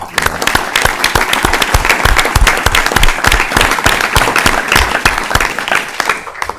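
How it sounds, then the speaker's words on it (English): Sustained applause from a crowd at a port commission meeting, dense rapid clapping at steady loudness throughout, with a few faint voices mixed in. "they should have a big round of applause"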